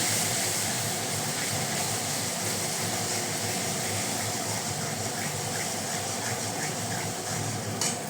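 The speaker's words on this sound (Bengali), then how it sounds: "তেল গরম হয়ে গেছে। মশলাগুলো ছেড়ে দিচ্ছি।" Spices hitting hot oil for a chili mushroom dish, giving a steady, loud, hissing sizzle that holds evenly throughout without pause.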